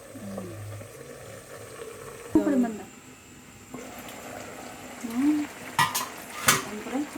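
Metal lid clanks onto a pot of adobo on the stove, with several sharp clinks and scrapes of cookware amid a quiet kitchen background and some talking.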